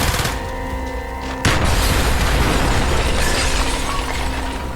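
Mortar explosions in the Call of Duty Black Ops 1 campaign: a loud, dense wash of booming blasts and crackling debris, with a sharp impact at about one and a half seconds followed by continuous rumbling explosions.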